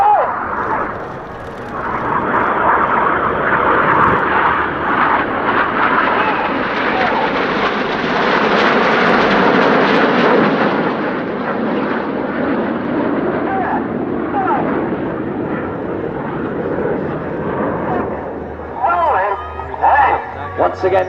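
Red Arrows jet aircraft fly aerobatic rollbacks at an airshow, producing a loud, sustained roar that swells and fades over about twenty seconds, with a commentator talking over the noise.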